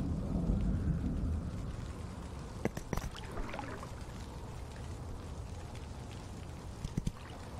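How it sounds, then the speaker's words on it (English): Steady rainfall in the video game Spring Falls, with a low thunder rumble fading early and a few sharp drip-like clicks, continuous and moderately loud with no voices. "It's raining."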